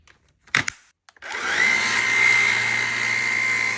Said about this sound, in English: It is so quiet. It is a very quiet vacuum.